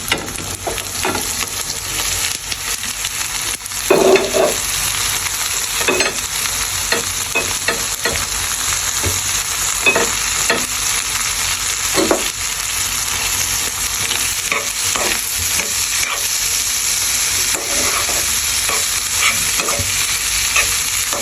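Scrambled egg being stir-fried with cauliflower, carrot, onion, cabbage, green chili, lettuce and spring onion for chow mein, a steady loud sizzle broken by repeated scraping stir strokes throughout, with no talk.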